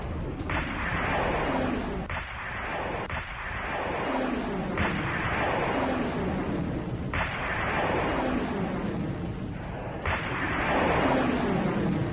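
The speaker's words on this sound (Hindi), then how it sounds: "इंडियन नेवी ने युद्धपोत से मिसाइल दागी है" An Indian Navy warship fires an anti-ship missile at sea in the Arabian Sea, giving a loud, sustained roaring rush with several surging bursts that rise and fall over about twelve seconds, with no talk.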